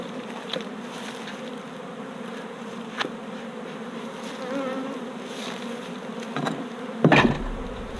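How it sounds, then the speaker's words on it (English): Honey bees droning around open hives during a comb honey harvest, a dense continuous buzz close to the microphone, with a few clicks and knocks of hive tools near the end. "we got plenty of bees here"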